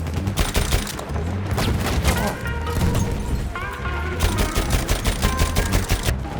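Chauchat machine gun fire in the Battlefield 1 video game: loud, dense, sustained bursts of rapid automatic shots, close up, with rattling impacts and a busy battlefield din around them.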